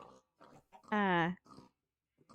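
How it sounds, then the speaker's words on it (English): Pig in the Minecraft video game (modded Better Minecraft): a single loud nasal oink standing out between short bursts of someone talking, near and clear. "You'll have to ignore the pigs."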